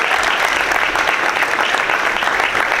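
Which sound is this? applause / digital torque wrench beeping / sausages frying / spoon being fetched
applause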